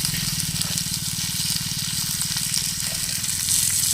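Tilapia frying in a pan of oil outdoors: a steady, close, dense sizzle with fine crackling runs on without a break, fairly loud.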